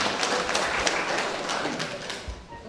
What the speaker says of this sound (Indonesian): Sekali lagi tepuk tangan untuk pemerintah.